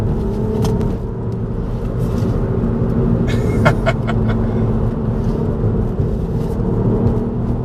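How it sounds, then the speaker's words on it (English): A 2018 Ford Fiesta ST hot hatch pulls hard through twisty corners in second and third gear, its engine a steady, loud rumble with road noise throughout and a brief burst of higher-pitched sound midway; no one speaks. "It doesn't feel upset that I'm putting the foot down around the corner."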